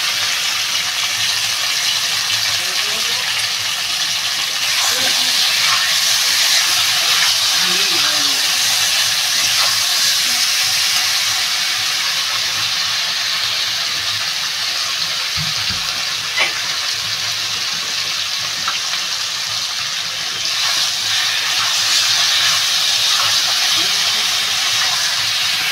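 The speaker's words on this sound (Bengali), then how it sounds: "ভালো করে একটু ভেজে নেবো।" Katla fish fries in a pan with turmeric, giving a loud, steady sizzle and hiss that runs throughout with occasional faint clinks and stirring.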